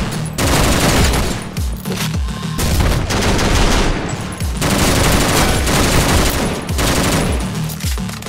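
Rapid M1 gunfire in the top-down shooter OTXO, dense bursts of loud automatic shots rolling almost continuously with brief gaps, close and punchy over game music.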